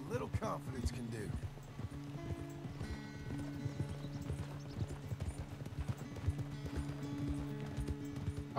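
Horse hooves clip-clop at a riding pace in Red Dead Redemption 2, a steady close rhythm with a few whinnies, under game music and occasional talk.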